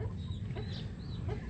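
A young gamefowl stag rooster clucks softly in a few short calls over a steady low rumble of background noise.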